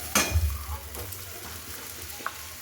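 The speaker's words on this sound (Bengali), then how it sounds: "এইভাবে এই মশলাটাকে একটু কষে নেব" A spice paste with yogurt, ground cashew and melon seeds sautés in a pan for matar paneer, giving a soft steady sizzle with a sharp utensil scrape at the start and a few light stirring clinks, no voices.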